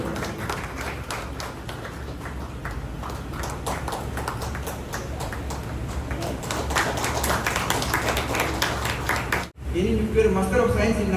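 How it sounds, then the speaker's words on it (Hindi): Audience applause at a felicitation ceremony held by a youth association, a steady dense patter of many hands lasting several seconds, briefly cut off, with voices audible under it. "तालियों की गड़गड़ाहट की कमी नहीं होनी चाहिए।"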